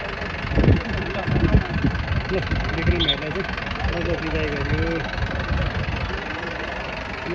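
A funeral vehicle carrying a body idles steadily with a low knocking rumble, while voices talk nearby over it and motorbikes wait.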